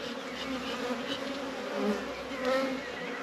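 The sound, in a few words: honey bees buzzing in a nucleus hive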